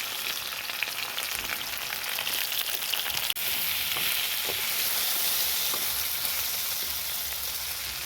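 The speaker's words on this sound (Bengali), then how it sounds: "কচুর সঙ্গে ভাজা হয়ে যাবে।" Taro pieces fry with onion and green chili in hot oil, giving a continuous dense sizzle with occasional stirring scrapes and small pops, close and steady throughout.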